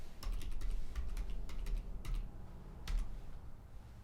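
A computer keyboard is typed on nearby in a quick run of crisp key clicks, then a few more isolated taps, over a low steady room hum with no speech.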